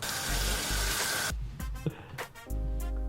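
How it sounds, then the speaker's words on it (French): Running tap water splashes steadily for over a second while hands are washed, then cuts off into brief wet rubbing and splashing sounds close by. "Très important, le lavage de main."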